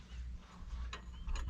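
A ratchet working a bolt loose on the brake of a GAZ-66 truck, two short clicking bursts of the mechanism over low background hum, fairly quiet and close.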